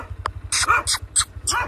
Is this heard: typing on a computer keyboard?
no